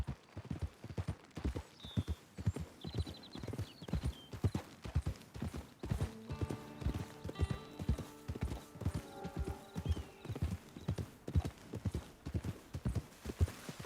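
Horse hooves clip-clop in a steady, close rhythm through Red Dead Redemption 2 on PS5, loud and continuous, with a brief whinny and some faint music layered in partway through.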